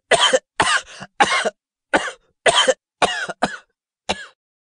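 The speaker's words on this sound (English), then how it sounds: "How long have you had that cough?" A series of harsh coughs, about eight bursts in quick clusters with short pauses between, close and loud.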